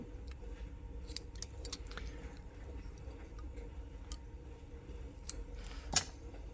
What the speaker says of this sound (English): Then I'll trim the ends off.